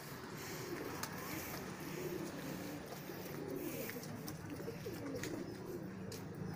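Pigeons coo softly in repeated, rounded calls on a hot day, faint and somewhat distant over a constant background hiss, with no one speaking.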